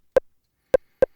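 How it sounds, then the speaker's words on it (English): Short kick trigger blips on a Pro Tools sidechain key track sound as three brief, clean thumping clicks with silence between them, loud and isolated. "So these are all of our kick blips."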